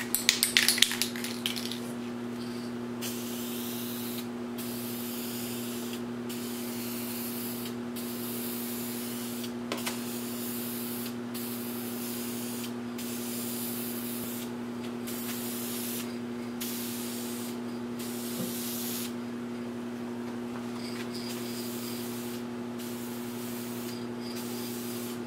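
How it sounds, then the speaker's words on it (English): Minwax polyurethane finish is sprayed from an aerosol can onto a 15-inch birch platter in a series of short hissing bursts with gaps between them, close and steady over a constant low hum. "spray the same stuff I was using, Minwax polyurethane"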